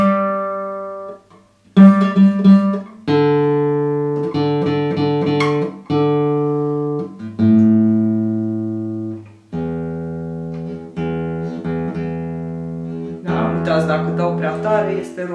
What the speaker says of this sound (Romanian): Aceasta este a doua metodă de a acorda chitara folosind un tuner